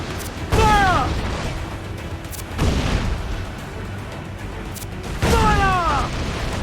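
Ship cannons boom in Assassin's Creed IV: Black Flag, three heavy blasts spaced a couple of seconds apart over a rumbling sea-and-wind bed, each leaving a ringing tail.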